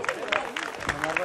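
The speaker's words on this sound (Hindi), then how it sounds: "तो मैं चाहूंगा फिर से एक बार जोरदार ताली हो जाए" An audience claps loudly at a sangeet wedding celebration, a dense patter of hands with bursts of cheering and crowd noise throughout.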